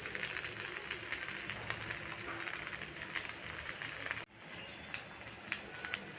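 Sabudana thalipeeth sizzles steadily in a pan after being flipped, a continuous fine crackle at moderate level with a brief dip partway through, no voices.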